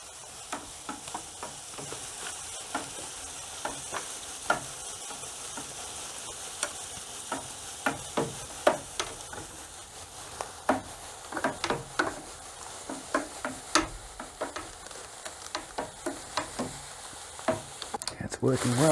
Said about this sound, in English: I'll quickly stir this while it's flowing out.